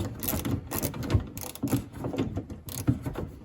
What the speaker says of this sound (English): a little ratchet, 10 millimeter socket. Get in here and remove that